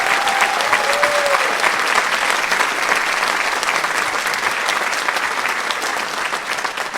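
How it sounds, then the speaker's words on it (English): An audience applauds student musicians at an invitational school music festival, with steady, dense clapping filling the hall at full strength for the whole stretch and only easing slightly toward the end. "Give them a round of applause"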